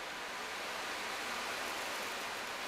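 Small metal balls slide around inside an ocean drum, producing a continuous even hiss like breaking surf, steady and fairly close with no pauses or voices.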